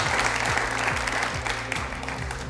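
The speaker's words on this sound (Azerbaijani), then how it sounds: "Gəl, özünüzü bir alqışlayın." An audience at a studio talk show claps in a dense, steady burst of applause that stays loud from start to finish.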